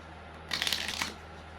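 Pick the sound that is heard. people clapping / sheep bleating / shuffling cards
shuffling cards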